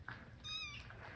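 A kitten near a weak baby deer lets out a single short, thin meow, faint and somewhat distant against low background rumble.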